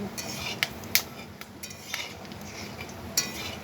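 A spatula scraping and clinking in a cooking pan while whole spices, a dried chilli, bay leaf and garam masala, are stirred, a few light metallic taps over a soft hiss, close up.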